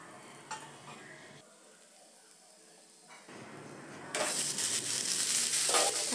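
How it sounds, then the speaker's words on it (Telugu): Broad beans tipped into a frying pan of browned onions for a tomato curry, then stirred, bringing a scrape of utensil and a loud steady sizzle that swells in the final seconds, close up with no talk. "తర్వాత ఈ చిక్కుడుకాయలను వేసుకోండి."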